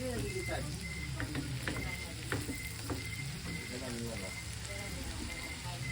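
Onion and garlic fry in a pan with a steady, close sizzle, broken by soft scraping and clinking as they are stirred, with a voice heard intermittently over the cooking.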